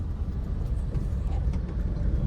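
A car moves slowly through a city traffic jam while waiting to make a right turn, with a steady, close engine and road rumble filling the cabin and no talking.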